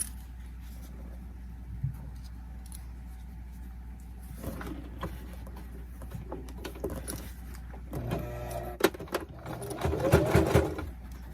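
A home sewing machine basting a fabric pouch with a zipper, quiet at first, then short bursts of rapid stitching that grow louder near the end.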